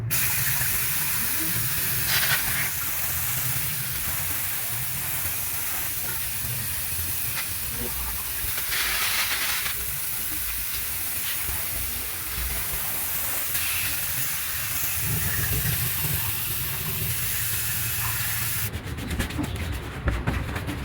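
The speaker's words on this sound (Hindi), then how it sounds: "हमने नोज़ल चेंज करके इसी बोतल से गाड़ी के इंजन को अच्छे से पानी के प्रेशर से वॉश कर लिया।" A pressure spray bottle fitted with a changed nozzle sends water over a car engine, giving a steady close hiss that runs almost unbroken, with a brief rougher burst near the end.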